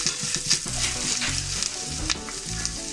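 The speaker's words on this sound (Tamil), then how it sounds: "தேங்காய் சேர்த்துட்டு லைட்டாக வதக்கலாம்" Grated coconut sautéing in a pan for a Tamil breakfast chutney, a steady close sizzle and fry with light scraping stirs, no talking.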